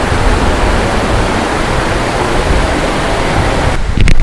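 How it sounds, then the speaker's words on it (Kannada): Devkar waterfall at Kanur near Yellapur pours in a loud, continuous roar of rushing water, dense and unbroken, with a brief disturbance at the very end. "ಈ ಜಲಪಾತ ನೀವು ಮೇಲಿನಿಂದ ನೋಡ್ತೀರಾ, ಹಳ್ಳ ಹರಿದು ಹೋಗ್ತಾ ಇರೋದನ್ನ"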